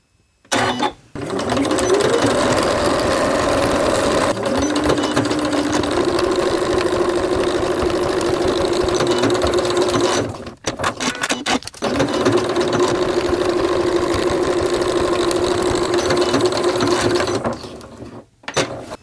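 Domestic sewing machine stitching the tail and head seams of a fabric caterpillar plush toy, a steady close whirring drone running in two long bursts with a brief stop and stuttering restart between them.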